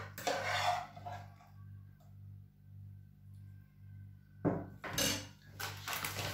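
Fusilli alla Calabrese with chili and pancetta being plated, with clinks and scrapes of utensils against dishes in short bursts at the start and again near the end, over a steady low kitchen hum.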